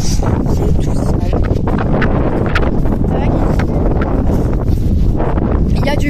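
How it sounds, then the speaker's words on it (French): Strong wind gusting across a microphone outdoors at an eventing horse competition, a loud, constant roaring buffet filling the whole clip with no clear pauses. "Il y a du vent"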